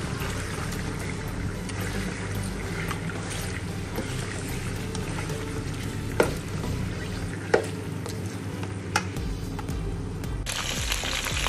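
One kilo of chicken frying in oil with garlic and ginger for chicken nihari, a steady dense sizzle throughout with occasional clicks of a stirring spoon, close and continuous without talk.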